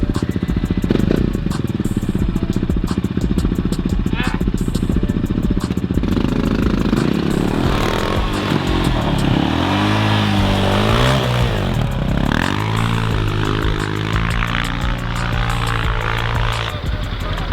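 Engine of a pit bike stuck in deep snow, about two feet deep after a storm, revving repeatedly in loud, close bursts. The wavering pitch rises and falls, and excited voices talk over it early on.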